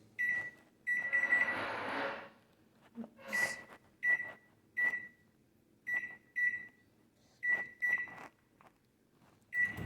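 A microwave oven running and chiming, with a steady low hum broken by a rush of noise and a series of short, repeated beeps spread evenly through the stretch.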